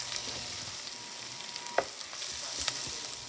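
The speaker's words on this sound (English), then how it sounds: "Add our carrots and celery. I'm going to cook this 3 or 4 minutes until my onions become translucent." Carrots, celery, onions and garlic frying in a soup pot for cheeseburger soup, a steady soft sizzle with occasional clinks and stirring sounds.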